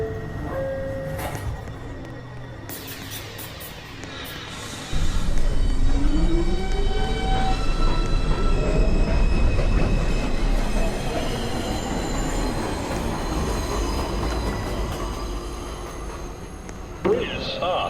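A New York subway 2 train pulls out of 2 Av station at night, rising from a quiet platform hum into a loud, sustained roar of wheels and rail noise with squealing wheels, then easing off near the end.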